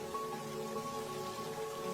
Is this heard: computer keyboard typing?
no